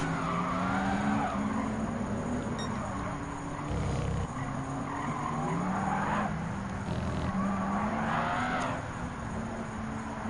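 Vision GT race cars, including a Zagato and a Toyota FT1, racing in Gran Turismo 7, with engines whining and rising through the gears, tyres squealing into a corner, and a commentator talking over the track sound.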